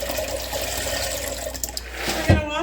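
Dry pinto and yellow eye beans are washed in a pot of running water, a close, steady rushing and splashing that ends in a brief louder slosh.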